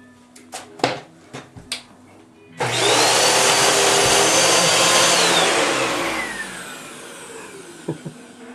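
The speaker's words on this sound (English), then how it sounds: "Okay, go get the vacuum." A household vacuum cleaner switches on and roars loudly and steadily at close range for several seconds, then winds down, with scattered knocks and bumps before and after.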